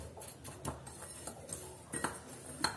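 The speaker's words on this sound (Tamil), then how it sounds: "இதை நல்லா இப்படி ஒரு மிக்ஸ் கொடுத்துக்கோங்க," A spoon stirs green chilli pickle masala with salt and turmeric in a dish, a series of soft, irregular clinks and scrapes, close but fairly quiet, with no talking.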